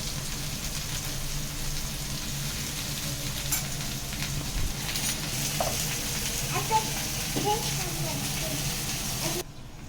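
Green chillies fry in hot oil for a homemade ridge gourd chutney, a continuous close sizzling hiss with light stirring scrapes and pops, and a voice speaking over it throughout.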